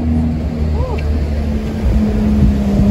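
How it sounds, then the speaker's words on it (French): A Porsche 911 GT3 of the 992 generation, in Monaco, sends out a steady low engine rumble that swells near the end, set against a wide background of street noise. "J'ai entendu un démarrage. Ça m'a l'air sympa. Petite Porsche GT3. Type 992."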